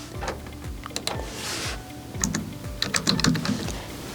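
Computer keys click in quick, uneven bursts as a username is typed into a student information system login, close and clear with no talking.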